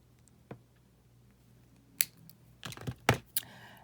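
Wire cutters snipping off excess wire while making handmade wooden earrings, a few sharp close clicks and snaps, one isolated then a quick cluster, in a quiet room.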